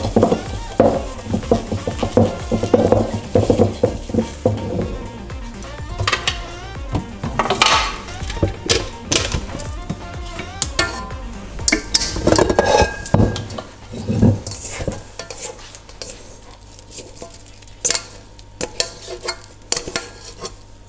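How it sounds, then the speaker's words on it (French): Bretzel dough is scraped out of a stand mixer bowl into an oiled mixing bowl, making irregular clinks, scrapes and knocks of a utensil against metal and glass that come and go over a soft background. "Donc on va débarrasser cette pâte dans un saladier"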